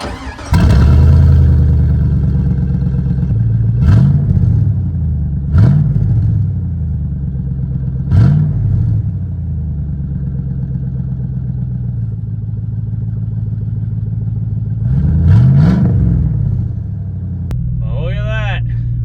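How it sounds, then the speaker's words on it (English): A 24-year-old Chevrolet Silverado truck engine with a faulty injector and an aftermarket muffler idles roughly around 900 RPM with loud, repeated stumbling pops from the exhaust, several uneven misfires spaced a few seconds apart. "Now that I got that badass muffler on there, you definitely hear the misfire."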